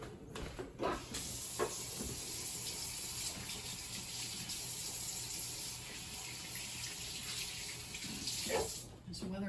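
Water running steadily from a tap into a sink during hand or dish washing, a constant close hiss and splash with faint handling knocks at the start and end.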